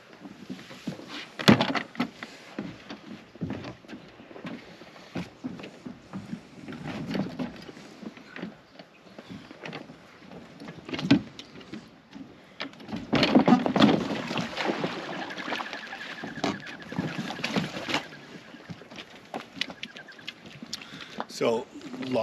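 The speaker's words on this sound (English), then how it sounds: "I'll launch this boat off the dock and show you guys kind of how easy it is to use" Inflatable boat pushed off a dock on Stryker launching wheels, with irregular thumps, knocks and splashing water under wind noise, close to the microphone, and people talking at times.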